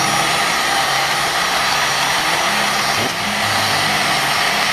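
A Scorch Marker Pro heat gun blows with a loud, steady, airy roar, close by and unbroken, with a brief slight dip partway through.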